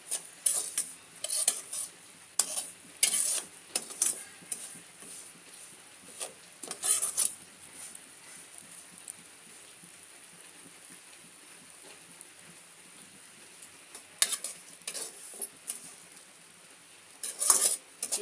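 Semolina roasts in a pan while a metal spoon stirs it, producing clusters of close scraping and clinking strokes against the pan, with a quieter lull in the middle and no talking.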